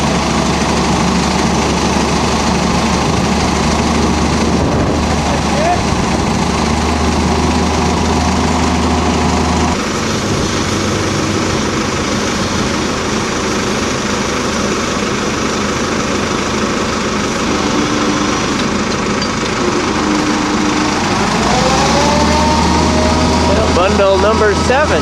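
A crane engine runs steadily while a container from a Honka log-home delivery is unloaded, a close droning hum that shifts in pitch as the machine works, with a brief rising whine near the end.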